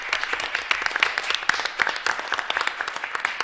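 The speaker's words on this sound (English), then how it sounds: "big applause for Councilman Koenig" Audience at a town board meeting claps steadily for a council member, a dense patter of many hands filling the room at moderate level with no talk over it.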